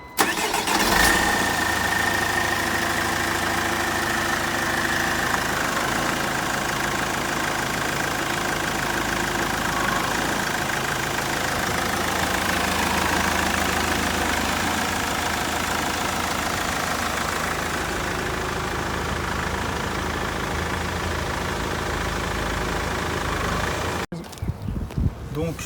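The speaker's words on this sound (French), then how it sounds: "Mon collègue va démarrer le moteur, va tourner les roues" Car engine started and left idling during a power steering fluid change with the vehicle raised, a steady loud mid-pitched drone running continuously without break until it cuts off near the end.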